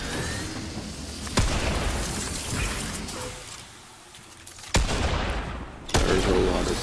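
Grenade explosions go off in a video game firefight, several loud sharp booms punctuating steady gunfire and battle noise while players talk over the action.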